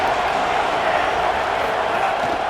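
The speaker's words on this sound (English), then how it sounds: "This crowd ready to make its presence known." A packed stadium crowd roars in College Football 27 before a Liberty at Virginia Tech game, a steady, dense wall of cheering and noise sustained throughout without breaks.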